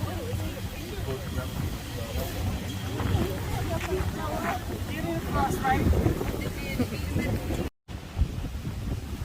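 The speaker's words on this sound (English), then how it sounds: "Can you guys hear me over the wind?" Steady wind buffets the microphone in gusty rumbles while several people talk outdoors nearby at a winery tasting.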